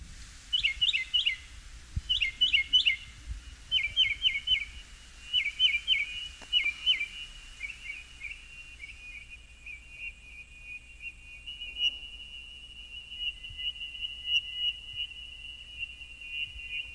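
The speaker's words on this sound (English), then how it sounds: "Why do birds sound like car alarms now?" Repeated electronic-sounding bird chirps in quick bursts, like a car alarm cycling through patterns, then settling into a long steady whistle tone.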